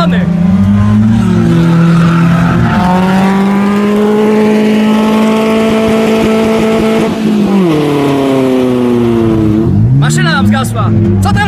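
A BMW drifting at a car picnic, its engine revving hard through long sustained harmonic sweeps with tyre squeal, loud and close, then a sharp rise in pitch near the end.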